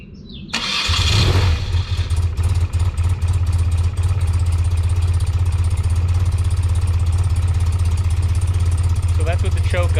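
A 1993 BMW R100GS motorcycle engine cranks, catches and settles into a loud, steady idle with the choke on, its even low rumble running close and unbroken to the end.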